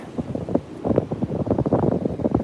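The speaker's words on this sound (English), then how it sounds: "I think y'all probably could hear the wind" Gusty wind at a beach buffets the microphone in uneven low rumbling bursts, loud and close, rising and falling throughout.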